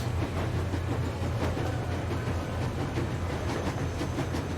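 In Metro Exodus, a steam train rolls along the rails in winter with a dense, continuous rumble and rhythmic clattering wheel knocks, steady and close.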